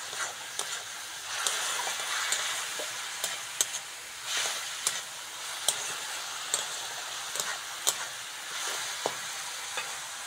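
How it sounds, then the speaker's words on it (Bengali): Curry leaves dropped into onion and tomato frying in oil for a South Indian fish curry, giving a steady close sizzle broken by repeated sharp crackles and spatters, with stirring scrapes throughout and no talk. "এবার কারি পাতাগুলো দিয়ে দেবো"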